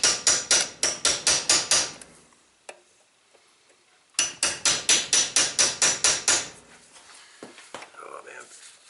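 Small clips being hammered down on a Nissan Rogue, two bursts of about eight sharp, evenly paced metallic strikes each, close and loud, separated by a quiet pause with faint handling noises.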